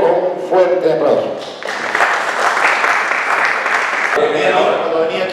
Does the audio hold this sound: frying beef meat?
no